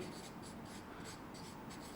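Pen or marker writing on a board during a biology lesson: a steady, continuous scratchy rubbing with faint rhythmic strokes, close and alone, with no talking.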